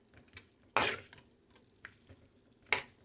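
Potato curry stirred in a cooking pan, a few sharp scraping strokes of a spoon against metal spaced apart over quiet background sizzle, close and fairly soft.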